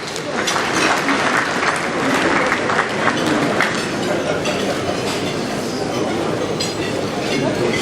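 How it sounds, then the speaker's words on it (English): Sustained applause from a dinner audience fills the room at a 2015 inauguration dinner after a toast to democracy, a dense, steady wash of clapping that holds level and loud throughout with some murmuring underneath. "One round of applause for him, please."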